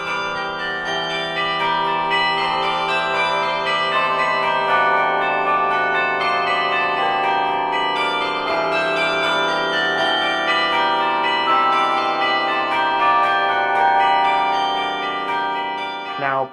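Tuned bells, with the bass bells kept an octave below the melody and tenor, ring out a Bach arrangement as a continuous stream of overlapping struck notes with long, shimmering decays.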